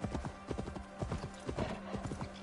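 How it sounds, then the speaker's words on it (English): Horse hooves clip-clop rapidly and evenly in Assassin's Creed Valhalla, set in Ireland, with a steady low tone running underneath. "Yeah, I have a horse,"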